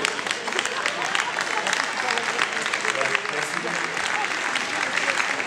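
An audience at a 2015 departmental election speech in Levallois breaks into sustained applause, dense and fairly loud from start to finish, with voices mixed in beneath the clapping.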